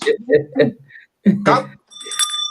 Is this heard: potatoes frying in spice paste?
no